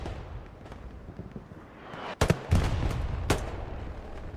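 Grease gun fire in Hell Let Loose during a competitive match in Hurtgen Forest, a few loud sharp bursts in the second half after a quieter rumbling stretch, with distant crackles of battle in the background.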